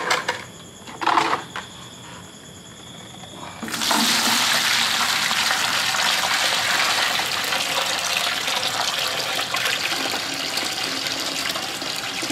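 Muddy water poured off settled soil to separate it: a few small splashes, then a steady, loud gushing pour that runs continuously, close by, with no talk.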